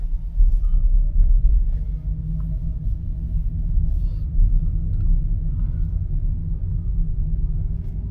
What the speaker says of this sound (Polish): No dobra, opony tutaj słychać.